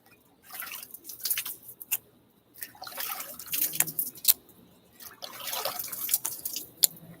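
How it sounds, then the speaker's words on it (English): Shaving gear is rinsed in a big mixing bowl of cool water, producing repeated bursts of splashing and sloshing with brief dripping pauses between them, close and clear. "let me give a good rinse now"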